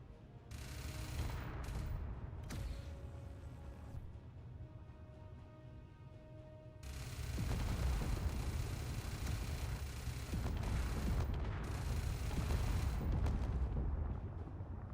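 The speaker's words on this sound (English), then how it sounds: "God, what gun is firing right now?" Sustained gunfire from a heavy ship-mounted weapon in Space Engineers, continuous rapid bursts with rumbling impacts that grow louder and denser in the second half, with no talking.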